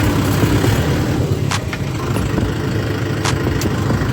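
A tractor engine drones steadily while pulling a reversible MB plough through a field in first gear, a continuous loud low rumble with a couple of brief higher clicks.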